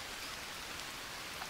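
Steady rain falls in the jungle survival game Green Hell, a dense continuous hiss of drops with no talk, even and moderately loud throughout.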